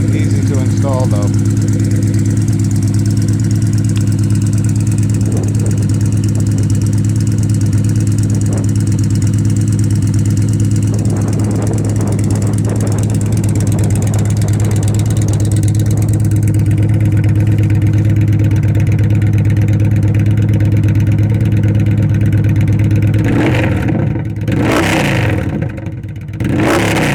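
A 2011 Victory Vision Tour motorcycle with D&D exhaust and its cylindrical baffles removed idles with a loud, deep, steady rumble close by, with a few brief throttle blips and a harder rev near the end, while someone talks over it.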